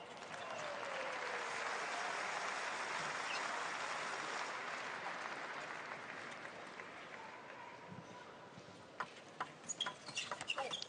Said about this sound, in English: the crowd show appreciation here for Boll and Long